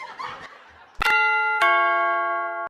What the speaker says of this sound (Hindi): इतना घंटी बजा रहा है?